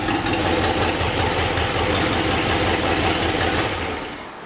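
An abandoned Ford F100 truck engine idles cold with no choke, a loud, close, steady rumbling with a rough, knocking pulse that eases slightly at the end.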